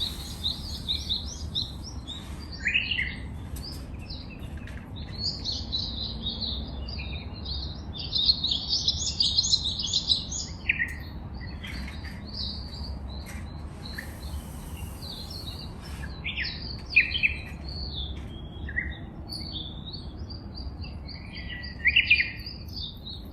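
Small birds at backyard feeders in a Dubai community chirp and tweet in quick, high, scattered bursts, some near and some farther off, over a faint steady background hiss, with no talking.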